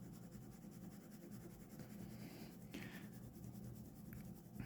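Graphite pencil lightly shading on paper, a soft continuous scratchy rasp of gentle strokes, faint and close, with no voices.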